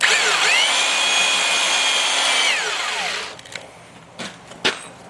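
A Van Norman boring machine chamfers a Willys F head engine cylinder with a loud, steady whining cut that winds down, followed by a few faint metallic knocks and clicks.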